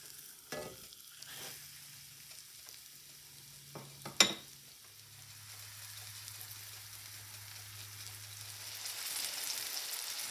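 Boneless pork chops about three-quarters of an inch thick fry in a pan with a steady, soft sizzle that builds slowly, broken near the start by a few clanks and a sharp scrape of a utensil.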